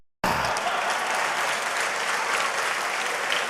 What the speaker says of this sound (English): let's give Mahathir a round of applause.